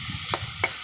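Onions frying in a pan give a brief, quiet, continuous sizzle, with two quick scraping strokes of stirring close by.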